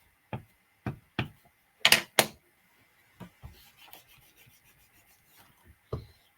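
A finger rubs over a card-making stamp to condition it, making several short, dry scratchy strokes, close and distinct against a quiet background.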